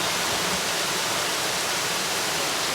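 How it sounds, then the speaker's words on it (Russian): A waterfall in the Seychelles pours in a loud, dense, continuous roar of rushing water, steady throughout with no voices. "в водопаде так классно"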